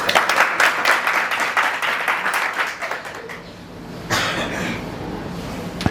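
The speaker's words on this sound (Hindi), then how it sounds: "इनके लिए ताली होनी चाहिए।" A crowd applauds with dense, steady clapping that fades somewhat, then swells again briefly before trailing off.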